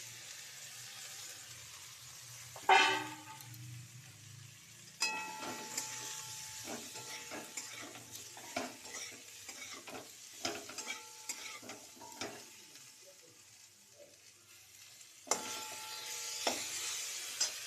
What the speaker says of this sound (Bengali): এবার ভেজে রাখা সবজিগুলো দিয়ে দিচ্ছি